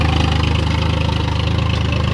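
A Sonalika tractor engine runs steadily in a field in second gear, a loud, close, continuous low diesel throb with an even pulsing rhythm and no voices.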